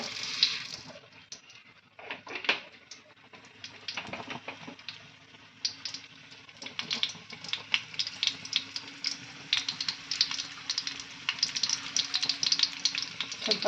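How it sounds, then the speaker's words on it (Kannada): Mustard seeds spit and crackle in hot oil for tempering, a dense run of sharp pops and sizzle that builds and stays steady, with no talking. "ಇವಾಗ ಒಗ್ಗರಣೆ ಇಡ್ತಾ ಇದ್ದೀನಿ"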